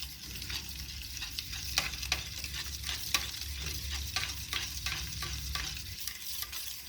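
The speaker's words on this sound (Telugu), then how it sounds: "ఇది బాగా కరిగేలాగా కలుపుకుందాం" Cake batter being stirred with salt in a bowl, a steady rhythmic scraping and slapping of the spoon repeating every half second or so, close and moderately loud over a low background hum.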